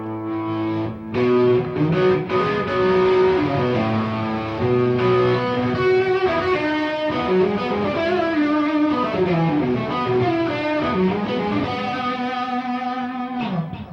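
A gritty, overdriven electric guitar plays a continuous run of chords and notes through a slow tube tremolo pedal, its sound gently pulsing throughout.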